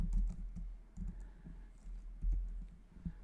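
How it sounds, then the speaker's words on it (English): Keys clicking on a computer keyboard as a cluster name is typed, a quick irregular run of soft taps with short pauses, close and fairly quiet with no talking. "And then I have to type in the name"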